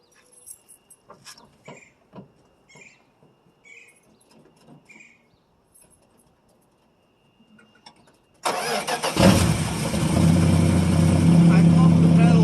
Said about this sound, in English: Cold start bonus.